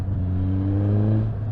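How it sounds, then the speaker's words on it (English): A Suzuki GSX-S1000 motorcycle under way, its airbox induction noise a loud close engine drone that rises steadily in pitch as the bike accelerates, with no talking over it. "lovely sound from the airbox or induction noise"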